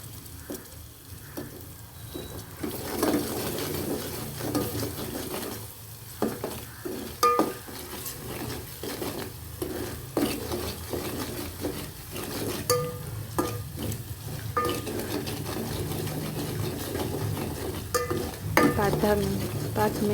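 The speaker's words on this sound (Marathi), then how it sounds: "टमाटे परत भाजून घ्यायचं." Tomatoes and masala for a Malvani pedvi fish curry fry in a pan while a utensil keeps stirring, giving a steady close sizzle broken by frequent scraping and clinking strokes against the metal over about twenty seconds.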